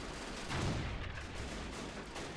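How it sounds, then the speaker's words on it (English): Heavy howitzers fire during a video game Civil War battle in Washington D.C., a dense rumble of booming artillery and gunfire rolling continuously with a swelling burst partway through, no voices. "You've got the heavy howitzers firing."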